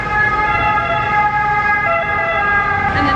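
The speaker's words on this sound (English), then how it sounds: "the sirens are so loud and annoying" Wailing emergency sirens in a busy street in Rome, loud and continuous with steady tones, traffic rumbling underneath.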